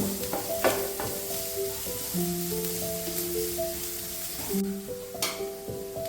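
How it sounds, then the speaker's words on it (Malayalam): Chopped onion sautés in a pan for a mixed vegetable bhuna masala, a continuous frying sizzle with stirring clinks, while a steady tonal hum runs underneath, close and fairly loud, with no talking. "നമുക്ക് ഈ സവാള ഒന്ന് ലൈറ്റ് ഗോൾഡൻ ബ്രൗൺ ആകണ വരെ ഒന്ന് വഴറ്റി കൊടുക്കാം."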